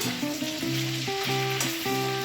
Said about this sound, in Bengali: এবারে চিকেনগুলো আবার উল্টে পাল্টে দিচ্ছি